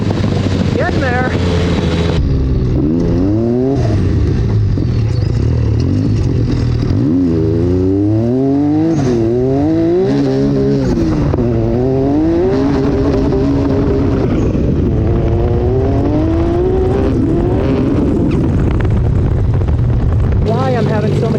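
The turbocharged Mirage buggy engine on a trail revs hard in second gear, its loud pitch rising and falling through repeated accelerations close to the microphone, with a voice talking over it.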